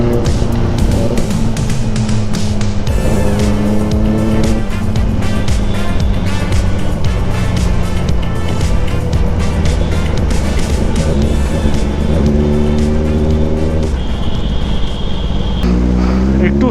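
A Kawasaki ZX10R superbike engine roars loud and steady while riding, the revs rising and falling through gear changes with heavy wind rush throughout.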